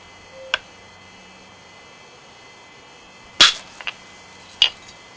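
A novaculite laurel leaf blade is struck with short, sharp clicking taps during flintknapping. One crisp tick comes early, and after a pause a tight cluster of snaps follows and then a final single strike, all close and clear against a quiet background.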